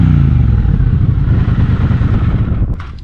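Triumph Bobber motorcycle idling with a deep, loud low-end engine burble, a steady pulsing rumble close to the microphone that drops slightly near the end, with no voices.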